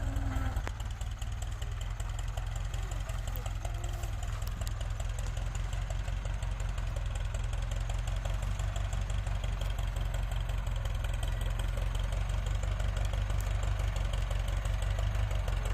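A Ford 6640 tractor engine runs steadily at low RPM with high torque while planting sugarcane, a continuous close, loud low-pitched rumble with faint knocking and vibration throughout, no voices.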